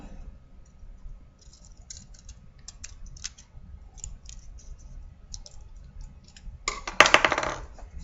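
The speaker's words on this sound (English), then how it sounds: "go ahead and cut across that dotted line" Scissors cut across a dotted line on paper for a triangular area activity, sounding as faint scattered snips through most of the stretch, then a louder, denser burst of cutting near the end; no one speaks.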